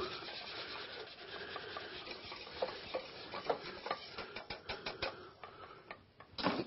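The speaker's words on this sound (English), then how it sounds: "Let me go ahead and whisk that just a little bit more." A mixture being whisked in a bowl in a catering kitchen, making a steady scraping, swishing rhythm that turns into quicker distinct strokes toward the end, fairly faint and close with no talking.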